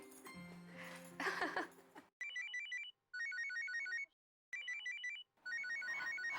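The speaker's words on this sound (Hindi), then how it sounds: "एक मिनट, माँ का फोन है।" An electronic phone ringtone plays in repeated melodic bursts with short gaps, loud and close, following a brief stretch of talk and laughter.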